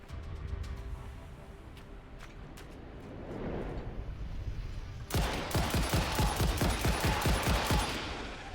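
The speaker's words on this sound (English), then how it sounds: "Who's shooting? And from where?" Automatic gunfire in the video game Satisfactory, heard as a rapid, loud burst of rattling shots that starts suddenly and keeps going in a steady stream after a low rumbling stretch.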